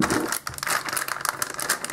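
A plastic parts bag from an Ansmann Virus ST RC car kit crinkles and rustles in close, irregular bursts during assembly, with no talking.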